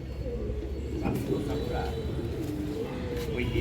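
Pigeons of an old breed at a pigeon farm coo in a soft, steady low murmur throughout, with someone talking over them close by.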